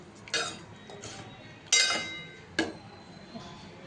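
Gujarati potato sabji being mixed in a pan with a spoon, heard as three distinct metal clinks, the middle one ringing longest, amid softer scraping, near and with no speech.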